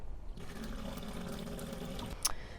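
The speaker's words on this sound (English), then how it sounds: "the water actually just feeds down through here and into the faucet, and then the water comes out there." Water runs steadily from a faucet fed by PVC piping, a continuous gushing stream that starts abruptly and flows on, ending with a brief sharp knock.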